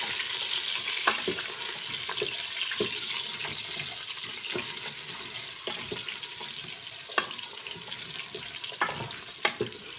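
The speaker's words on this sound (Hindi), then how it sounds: "हम इसमें आलू डाल के आलूओं को भूनेंगे" Potatoes frying in oil in a pan: a continuous sizzle runs throughout, broken by scattered scraping knocks as they are stirred, some of them sharper and louder near the end.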